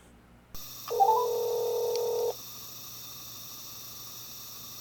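A faint phone line opens with a click, then a short series of electronic dial tones beeps before fading to a quiet line hiss.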